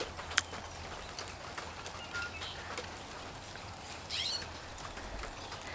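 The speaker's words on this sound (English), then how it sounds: "most of the birds I hear are like starlings" Scattered chirps and whistles of starlings in the distance over a constant wash of rain-like background noise, with one brief sharper call early on.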